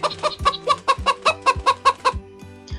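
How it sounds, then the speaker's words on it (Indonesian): A chicken clucking sound effect in a PowerPoint animation, a rapid, regular series of about a dozen sharp, close calls, then stopping abruptly. "Muncul gambar ayam dan suara ayam berbarengan"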